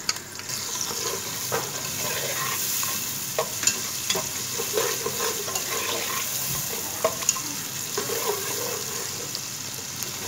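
Onions frying in a pan until light golden for chicken macaroni, a steady sizzle with frequent scraping stirs of a spoon on the pan throughout, close and fairly loud, no voices.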